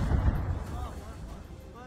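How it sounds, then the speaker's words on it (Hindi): A loud blast goes off behind a building where a Chechen fighter sits making tea over a fire, a heavy low boom at the start that rumbles and fades over the next two seconds. "एक जोरदार विस्फोट हुआ"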